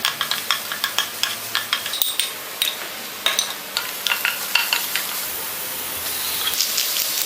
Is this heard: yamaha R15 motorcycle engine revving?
no